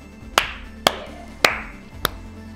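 A few people clap their hands in four separate sharp bursts, spaced about half a second apart, each with a short ringing tail in a quiet room, with no talking.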